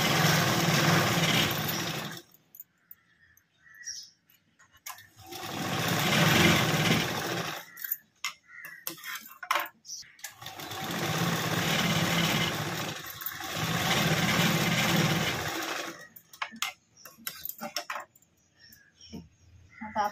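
Sewing machine stitching a princess-cut blouse runs in three sustained whirring bursts, each a few seconds long, separated by pauses filled with cloth handling and clicks, close and moderately loud.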